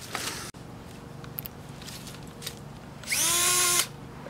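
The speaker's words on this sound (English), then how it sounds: "get your drill, put it in that sucker" Power drill spinning a dryer vent cleaning brush, a loud whirring burst of under a second near the end after some handling knocks and rustles.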